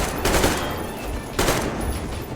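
Gunfire in the Metro shooter game comes as two loud bursts about a second apart, harsh and close over a noisy background.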